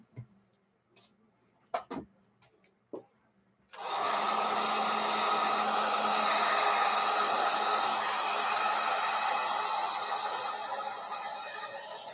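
A heat gun blows hot air over epoxy resin on a beach, starting after a few faint taps and clicks, then a loud, steady broadband whoosh runs continuously to the end and eases slightly at the close.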